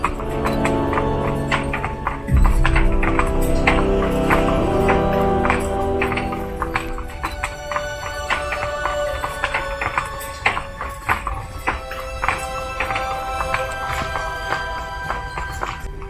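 Horses' hooves clop in a steady, rhythmic stream as they pull a carriage at a slow pace, close and crisp, over a soft tonal background.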